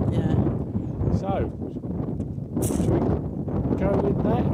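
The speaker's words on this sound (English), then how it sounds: "Now it's so windy" Heavy, blustery wind buffets the microphone with a constant low roar while people talk over it, beside a narrowboat on a river towpath.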